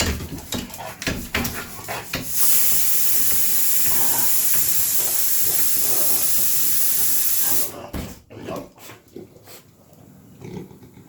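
A pressure cooker releases a loud, steady rush of steam for about five seconds before it cuts off, with scattered clatter and a voice around it.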